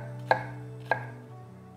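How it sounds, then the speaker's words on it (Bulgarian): A knife chops a small onion on a board: three sharp, spaced knocks over a faint steady hum, with no voices. "мога да нарежа една малка глава лук"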